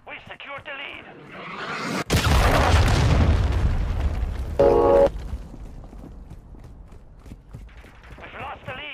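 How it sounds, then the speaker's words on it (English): A cruise missile strike in Call of Duty: Modern Warfare 2 multiplayer lands as a sudden heavy boom around two seconds in, followed by a long rumbling roar and a brief sharp burst near five seconds, with a game voice speaking over it. "Hostile cruise missile launched."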